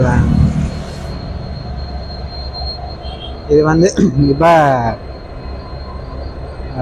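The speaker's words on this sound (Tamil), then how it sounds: "கொழும்புலேருந்து வந்த ட்ரெயின் வந்து காங்கேசன் துறைக்கு வந்துட்டுது" A train from Colombo pulls into Kankesanthurai station, its wheels squealing loudly in a burst of rising, whining tones over a steady rumble, close by, while someone talks nearby.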